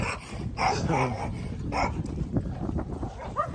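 Several dogs barking outdoors near a port in Barotac Viejo, Iloilo, Philippines, a run of sharp close barks and yips that comes in bursts and then trails into softer whimpers.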